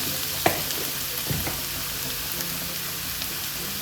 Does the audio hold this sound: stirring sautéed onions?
yes